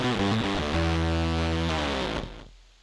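A fuzz-distorted bass guitar holds thick, buzzing sustained notes, then cuts off, leaving a faint hiss trailing away.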